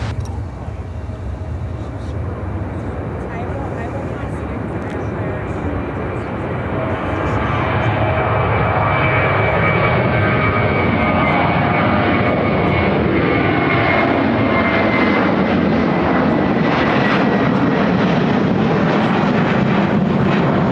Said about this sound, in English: Airlines 1855 taking off to Las Vegas, Nevada on the 737-800.